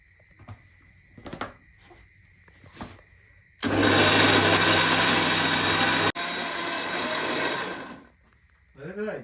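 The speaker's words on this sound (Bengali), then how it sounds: "এবার সেই ভাজা মশলাটা মিক্সিতে গ্রাইন্ড করে দেবো" An electric mixer grinder grinds roasted spices with a loud, steady whirring roar that starts abruptly after some quiet speech, breaks off for a moment, then runs on before winding down.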